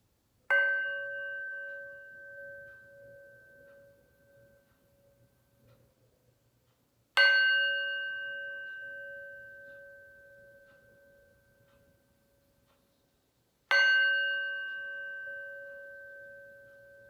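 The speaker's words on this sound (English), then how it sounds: "I'm going to hit some chimes 3 times" A chime is struck three times at even intervals, each clear ringing strike decaying slowly into near silence before the next, with no voices.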